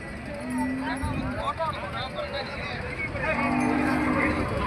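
Cattle lowing at the Gadag livestock market, with Jersey, local breeds and buffaloes present, deep moos rising twice over a steady crowd murmur with people talking throughout.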